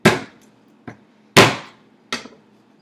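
A fist pounds down on a garlic clove on a kitchen counter, giving four sharp thuds in an uneven rhythm, two loud and two softer, each fading quickly.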